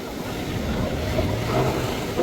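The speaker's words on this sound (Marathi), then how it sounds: "लाटा एकदम खतरनाक वाढलेल्या आहेत." Rough ocean surf on a Goa beach, high dangerous waves, churns as a broad, continuous wash with wind buffeting the microphone, steady and fairly loud.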